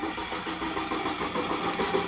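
A 1920s air compressor runs steadily after starting, a smooth, even mechanical hum with a faint regular pulsing, fairly close and moderately quiet, with no talk over it.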